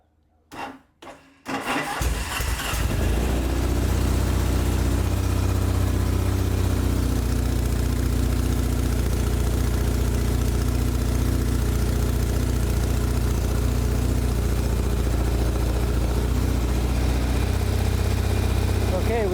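A Norton motorcycle engine on its first start after work, a few cranking bursts and then it catches and settles into a loud, steady running throb that carries on unbroken.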